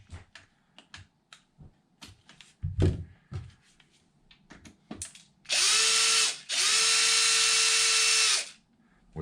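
A power driver removes a motor mount bolt on an Arrma Kraton M2 RC monster truck. Light clicks and tool handling come first, then two loud, steady whirring bursts, each lasting a couple of seconds. No voices are heard.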